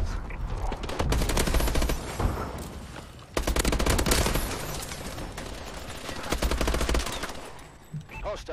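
Rapid bursts of automatic gunfire in a multiplayer hardpoint shooter video game, loud and dense in two long volleys separated by a brief pause, trailing off near the end.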